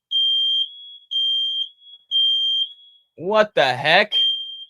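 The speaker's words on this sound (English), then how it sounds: "Why is my fire alarm going off?" A smoke alarm repeatedly sounds three loud, steady high-pitched beeps with short gaps, then a person speaks briefly as the alarm continues.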